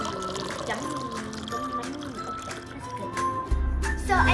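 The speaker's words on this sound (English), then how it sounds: "So now you wanna pour the milkshake into your cup." Vanilla cupcake milkshake poured from a blender into a cup, a thick gurgling trickle with a louder glugging splash near the end, with some background voice murmur.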